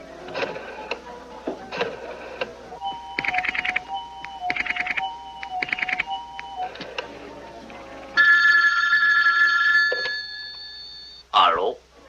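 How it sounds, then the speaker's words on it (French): An old telephone's bell rings in a 1960s setting, repeated trilling bursts with pauses between them, loud and close, followed by a steadier electronic tone near the end. "Le téléphone."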